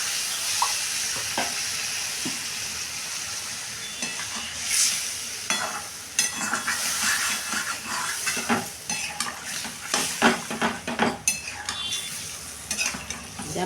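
Pieces of katla fish and potato frying in a pan, a steady hiss of hot oil under repeated spatula scrapes and clatters that grow busier over time, close by with no speech.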